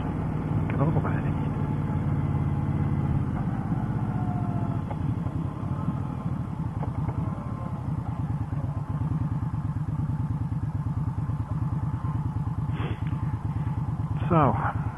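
A motorcycle rides close behind on an open road, its engine a steady low drone throughout with wind noise, and a passing whine near the end.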